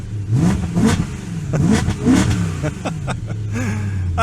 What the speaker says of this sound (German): es gibt doch nichts Schönes als ein M3 V8